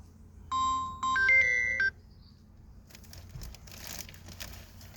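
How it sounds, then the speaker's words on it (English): A phone rings with a short burst of electronic melody, then cuts off into quiet rustling. "let me shut off this phone that ringing"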